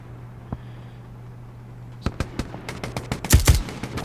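Machine gun bursts from a WW2 shooter game, Hell Let Loose, open up after a quiet stretch with a faint low hum: a fast rattle of sharp, loud shots building into a dense, heavier volley near the end.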